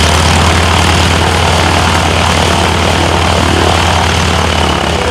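A plane at an air show with a 400-horsepower Pratt & Whitney radial engine roars loudly and steadily overhead, a dense droning engine and propeller sound with no talk.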